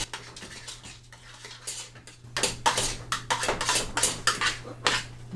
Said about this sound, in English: add our mashed potatoes and start mashing